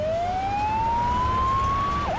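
A toy Playmobil ambulance siren sounds as one continuous rising electronic wail, loud and close, sweeping steadily upward before a quick dip at the end, with no voices over it.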